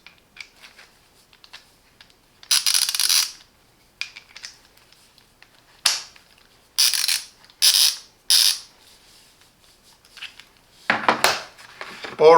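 An ETOOLAB TW230N torque wrench ratchet clicking, close and loud, in short separate bursts of rapid metallic ratcheting with quieter ticks and handling noise between them, no talking.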